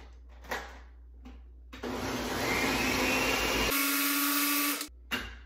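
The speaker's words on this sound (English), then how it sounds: "we're gonna go ahead and blend this thing up" A Ninja blender whirs loudly for about three seconds as it blends a smoothie. Its motor note shifts partway through before cutting off, with quiet room sound and a few clicks before and after.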